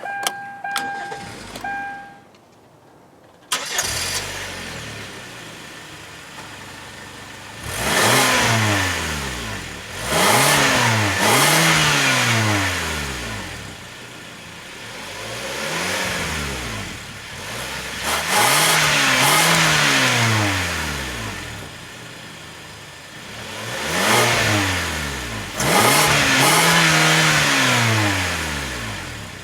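A 2011 Kia Sorento LX with a 2.4-liter inline four-cylinder starts after a short quiet spell, then revs repeatedly in rising and falling sweeps, loud and close, with a steady idle between the bursts and no talking.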